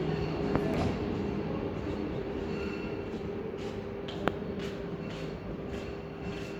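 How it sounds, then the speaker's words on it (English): An Ethiopian Railways (EDR) train departs Dire Dawa station with a steady low rumble of wheels and cars rolling close by, a brief sharp clank partway through and faint tonal whines. "The train is depart from here."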